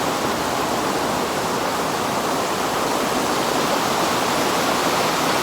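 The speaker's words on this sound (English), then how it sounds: "Right at the edge of the waterfalls right here." A waterfall with a powerhouse downstream, heard from right at its edge as a loud, dense, unbroken roar of rushing water with no other sounds.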